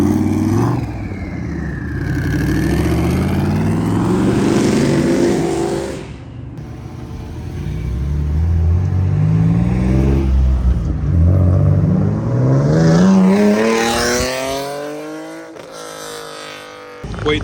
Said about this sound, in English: That Infinity that was revving broke down.